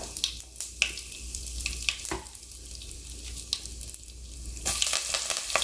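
Asafoetida crackling in hot oil in a pan for a Tamil pepper garlic curry, a steady close sizzle with scattered sharp pops, growing louder and brighter toward the end.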